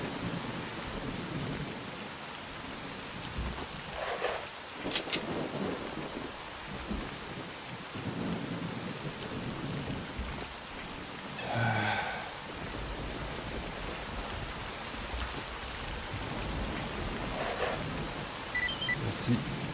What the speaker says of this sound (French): j'ai l'impression qu'il pleut vraiment.